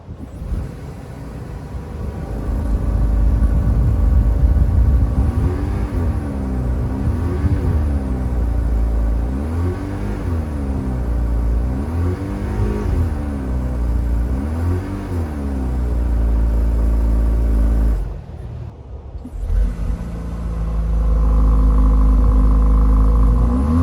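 A 2024 Alfa Romeo Tonale engine revs up and down repeatedly at close range, the pitch rising and falling in waves, briefly dropping off before surging again.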